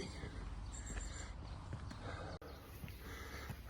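A horse's hooves clip-clop faintly at a mountain shrine site, with soft, irregular knocking steps under outdoor background noise.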